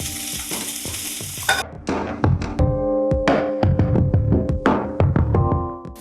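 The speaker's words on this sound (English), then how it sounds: "we're taking our pork, putting it in the pan, putting it away from you, and we're not gonna touch it" Pork sizzles as it fries in a pan. A dense hiss fills the first moments, then gives way to a rapid run of clattering, scraping knocks over a continuing low fry.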